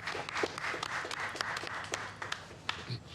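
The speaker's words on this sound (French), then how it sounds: "On applaudit." Family gathered at a celebration break into applause after a blessing toast, a steady wash of many hands clapping with scattered sharper claps, moderately close and continuous.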